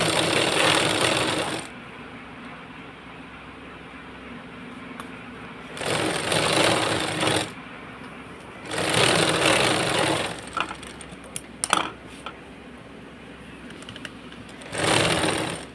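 A sewing machine stitches an embroidered blouse in four loud, rapid rattling bursts, each lasting one to two seconds, separated by quieter pauses with small handling clicks.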